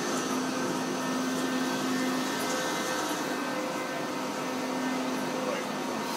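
Wasino TH-102 dual spindle, dual turret CNC lathe running in a shop, a steady machine hum and whir with a faint tonal whine, continuous and even throughout with no talking.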